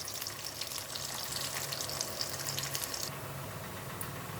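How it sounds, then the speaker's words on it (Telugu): Onion and green chillies fry in hot oil for chicken fry, making a moderate, continuous sizzling crackle close by that eases slightly toward the end, with no talking. "ఆయిల్ కాగింది. ఇదిగోండి, ఉల్లిపాయ పచ్చిమిరపకాయ వేస్తున్నాను"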